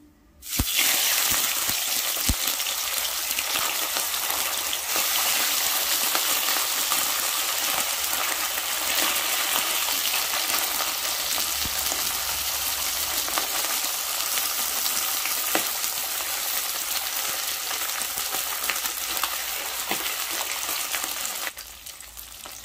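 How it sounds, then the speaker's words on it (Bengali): Pabda fish frying in a small amount of oil in a wok gives a steady, loud, dense sizzle with crackles that holds evenly for about twenty seconds before dropping away at the end. "তার কারণ এই মাছ ভাজার সময় ফাটতে পারে আর তেল ছিটকে পড়তে পারে।"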